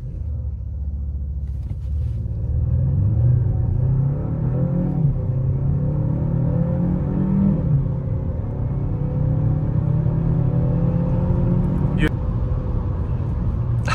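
A Renault Talisman 1.3 TCE with a 160 hp engine and EDC automatic gearbox pulls away from a brake-held launch, its engine droning low and loud. Pitch rises as it accelerates, then eases back, with a gear change heard along the way.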